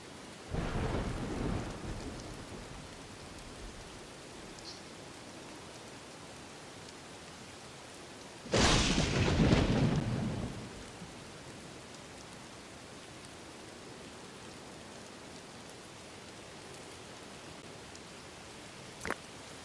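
Thunderstorm with rain in the survival game Dawn of Man: steady rain hiss throughout, a rumble early on and a loud close thunder crack with rolling rumble near the middle.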